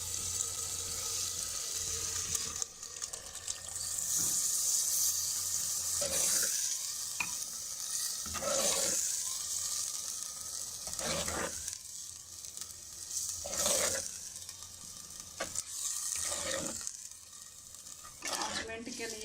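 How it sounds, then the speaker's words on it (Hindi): Saag greens tossed into hot masala and stirred, a continuous sizzle with repeated scraping and clanking of the spoon against the pan, steady and close. "अब इसमें हम डालेंगे साग।"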